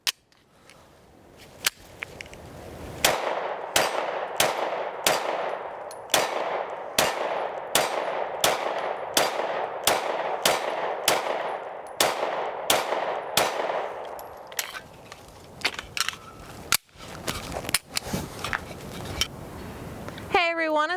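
A Taurus G3 full-size pistol fires 115 grain rounds in a long string of sharp, evenly spaced shots, about a dozen in steady rhythm, followed by a few scattered shots and metallic clinks.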